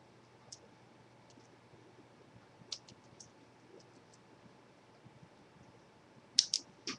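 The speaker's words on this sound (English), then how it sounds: "I'm just going to snip it right here" Small scissors snipping card stock: a few faint, sharp clicks scattered over quiet room tone, with a brief cluster of crisper snips near the end.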